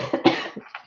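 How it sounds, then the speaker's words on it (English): A quick burst of several close, harsh coughs in a row, loud and clear with no talking. "I had to be on this side so I could get off camera to cough."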